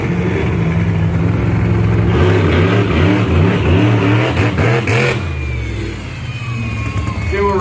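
A monster truck's engine revs hard in a rising, wavering roar that swells and falls through repeated throttle blips, then settles back to a rougher idle.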